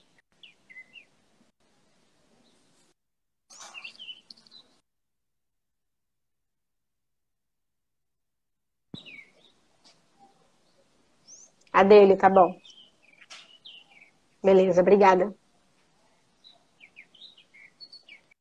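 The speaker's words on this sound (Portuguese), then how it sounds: "Ai, que delícia os passarinhos." Faint, scattered chirps from small birds drift in from outside, spread sparsely through near silence, while a voice speaks briefly in two short bursts.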